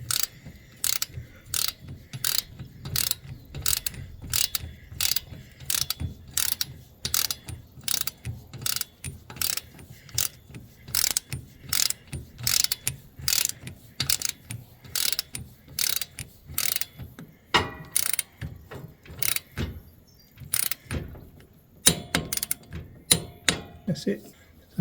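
A torque wrench ratchets on the deck clutch bolt of a Husqvarna Z560X mower, a long run of sharp, evenly spaced clicks up close that grows more irregular toward the end.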